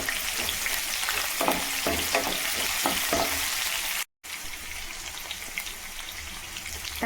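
Small onions drop into hot oil with mustard seeds, dried chillies and dal, giving a dense, steady sizzle and crackle with a few stirring clatters, a momentary gap, then continued frying, no speech.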